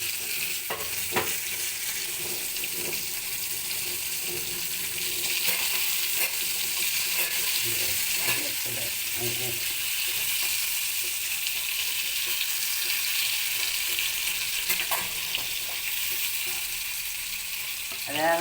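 Fish sizzles steadily in a hot pan with tomato, a dense continuous crackle with occasional louder spits and stirring clinks, close and alone with no talking.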